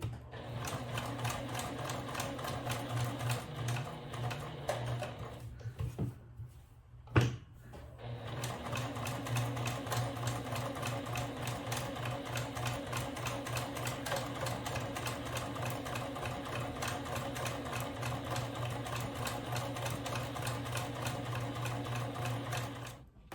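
A sewing machine runs steadily while back stitching a fabric gift bag, a loud continuous mechanical whir with rapid needle rhythm, briefly pausing in the middle before resuming and running on to the end.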